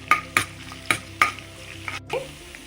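Chopped ginger sizzling in about three tablespoons of hot oil for white sauce pasta, a soft close crackle broken by four sharp spatula scrapes or taps near the start.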